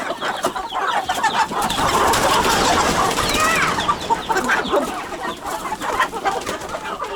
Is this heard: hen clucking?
yes